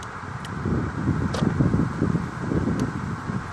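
Steady low wind buffets and rumbles outdoors against the microphone throughout, with a few faint clicks and no speech.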